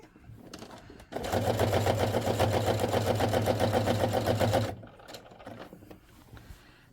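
A sewing machine stitches ric rac onto quilt binding, running in one steady, loud, close burst of about three and a half seconds, with quieter handling sounds before and after.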